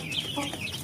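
Chickens clucking around a DOC feeder, soft overlapping clucks and chirps over a steady background hiss, moderately close, in a brief burst.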